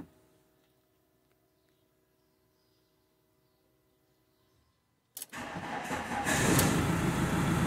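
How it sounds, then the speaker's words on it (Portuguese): A Peugeot Boxer diesel van with a starting fault sits quiet with a faint electrical hum, then its engine suddenly cranks and catches, settling into a loud, close diesel clatter that grows steadily. "Carro funcionando"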